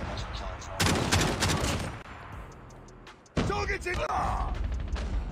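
Shotgun gunfire from the Echo shotgun in the Call of Duty Mobile video game, dense bursts of loud blasts in two rapid volleys separated by a brief lull, with game ambience and some talk mixed underneath.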